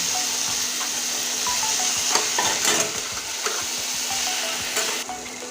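Mashed boiled potato frying in a pan with chopped tomato, a steady sizzle running throughout with scattered scraping and stirring clicks close by, no talking.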